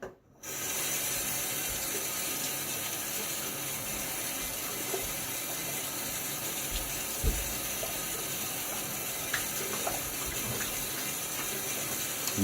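A tap runs steadily into a sink as a face is rinsed after shaving, a close, constant gush and splash with occasional small splashes from hands.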